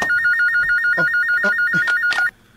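A telephone rings with a repeating electronic warbling ringtone, loud and close, running steadily for about two seconds before cutting off, with faint voices and movement underneath.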